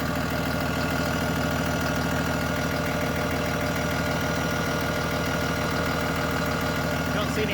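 Cummins ISB 6.7 diesel engine in a Freightliner S2RV chassis idling steadily, a continuous close, even rumble with a low knocking rhythm and no breaks.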